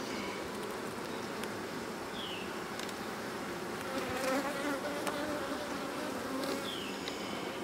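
Honey bees buzzing around a hive, a steady dense hum of many insects close by with a few louder passes, no voices.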